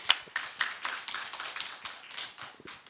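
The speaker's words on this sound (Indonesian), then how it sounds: "Boleh kembali kita berikan tepuk tangan yang meriah?" Audience clapping at an Indonesian cultural talk show on traditional cake businesses, a short burst of scattered hand claps from a modest crowd, fairly close and fading slightly toward the end.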